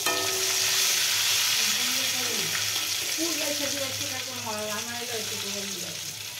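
Moong dal kachori deep-frying in hot oil makes a steady, loud sizzle that fades slightly, with a voice talking faintly underneath.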